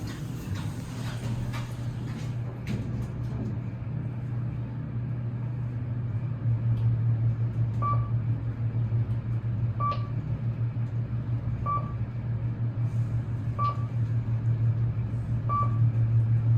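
A KONE (formerly Westinghouse) traction elevator in the Mayfair Office Tower in Wauwatosa travels between floors, a steady low motor hum and rumble with a short electronic chime repeating about every two seconds.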